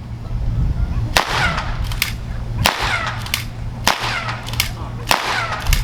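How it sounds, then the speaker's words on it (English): Blank rounds fired from real military weapons adapted for blanks at a military museum ammunition demonstration: four sharp, loud cracks spaced about a second apart over a steady low hum. "these are all real weapons, and we have adapted them for blanks"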